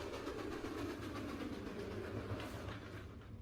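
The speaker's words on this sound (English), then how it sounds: "The train stops at the station" Train stopping at a station at night: a steady, fairly faint low rumble of rail cars and engine, with soft continuous hiss and no voices.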